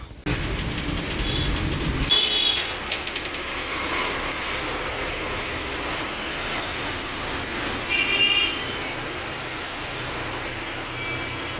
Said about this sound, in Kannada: ರೈಲು ಈಗ ವಿಜಯನಗರಕ್ಕೆ ತಲುಪಲಿದೆ